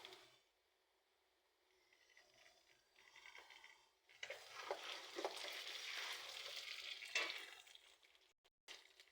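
Onions sautéing in a pan, starting near silent, then a faint sizzle that swells into a louder, steady frying hiss with stirring scrapes before cutting off near the end, no talk.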